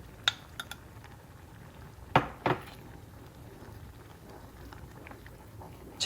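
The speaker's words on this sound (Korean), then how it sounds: "이제 마지막으로 계란 2개를 풀어서 넣어줍니다." Eggs being beaten and added to a pot of oatmeal porridge: scattered utensil clinks and taps against a bowl, with a couple of sharper scraping knocks midway over a low kitchen background, no talking.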